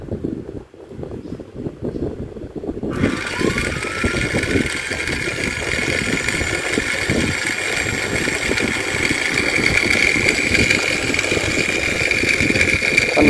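A 60V 1500W geared electric motor for a cargo vehicle runs unloaded at speed, a continuous whirring drone with a high whine that starts abruptly and holds steady and loud.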